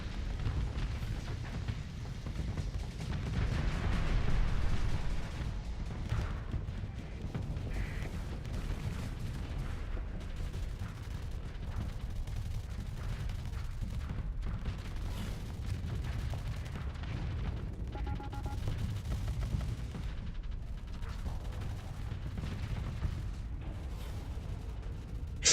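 Ship weapons firing in the space combat game Starsector: a dense, continuous barrage of deep booms and blasts rumbling steadily throughout, with no voices.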